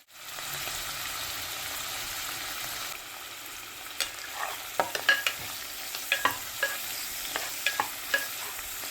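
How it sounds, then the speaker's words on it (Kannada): Chopped onion and fenugreek leaves fry in a pan, first as a continuous hiss, then with a run of sharp spatula scrapes and taps in the second half, close and moderately loud with no voices. "ಒಂದೇ ಒಂದು ಈರುಳ್ಳಿ ಕಟ್ ಮಾಡ್ಕೊಂಡು ಹಾಕ್ತಾಯಿದ್ದೀನಿ. ಮೆಂತ್ಯ ಸೊಪ್ಪು ತೊಳೆದು ಕಟ್ ಮಾಡಿ ಇಟ್ಕೊಂಡಿದ್ದೀನಿ, ಅದೊಂದು ಸ್ವಲ್ಪ ಹಾಕ್ತಾಯಿದ್ದೀನಿ. ಚೆನ್ನಾಗಿ ಫ್ರೈ ಆಗಲಿ."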